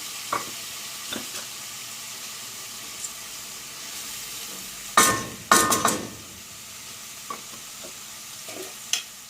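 A few soft stirring scrapes and clinks as washed, drained bulgur goes into a pot, with a brief louder clatter midway, over quiet background hiss.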